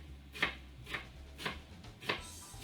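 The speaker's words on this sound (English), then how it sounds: "chop down till I start to get to the stems, and then that's good enough. Give it 1 turn, and then run my knife through it again" Knife chopping fresh dill on a cutting board, four crisp separate chops spaced about half a second apart, close and clear with no talking.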